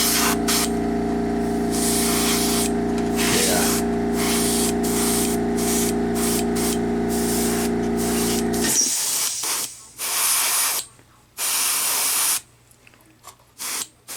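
An airbrush or spray gun coats the underside of a model dummy with a continuous close hiss and compressor hum for several seconds, then several shorter spray bursts with pauses between.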